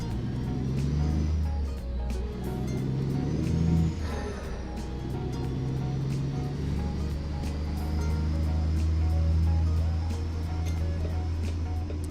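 A heavy haul truck engine in American Truck Simulator drones steadily under load, a deep rumbling hum that swells and eases, with a faint whine above it.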